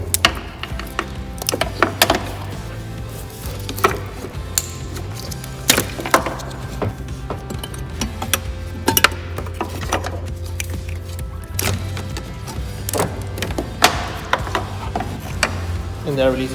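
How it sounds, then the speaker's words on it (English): Removing a headlight from a Nissan Maxima after unplugging its connector, with close, sharp plastic clicks and ratchety snaps at irregular intervals over a steady tonal backdrop. "We're gonna disconnect this real quick so we can remove the headlight."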